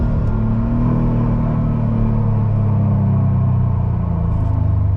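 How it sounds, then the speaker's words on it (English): A 2018 Subaru WRX STI on the move, its engine and induction giving a steady low rumble and drone that rises slightly in pitch as it pulls, close and continuous with no talking. "It has all these great mechanical induction noises too."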